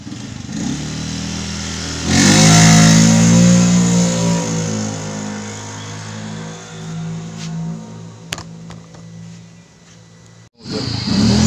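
A Honda Scoopy scooter engine fitted with an NMAX CVT spring revs up hard during a test ride, holds a strained drone, then eases off before revving again near the end, close by with no talking.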